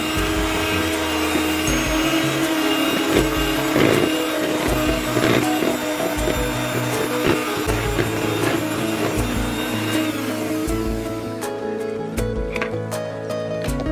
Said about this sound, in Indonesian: Kemudian mixer sebentar selama kurang lebih 2 menit atau sampai tercampur semua.